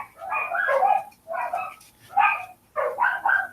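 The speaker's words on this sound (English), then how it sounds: "I'm in a dog fight out front. Something going on. I gotta go run a dog off." A dog barks out front in four loud, close bursts of rapid, agitated barking with short gaps between them, and no voices are heard.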